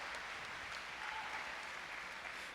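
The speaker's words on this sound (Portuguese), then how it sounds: "vamos aplaudir a Jesus" Congregation applause during a Brazilian family church service, a faint, distant, even wash of clapping that carries on without break for the whole stretch.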